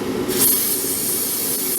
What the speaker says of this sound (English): I'm basically going to use a can of carb cleaner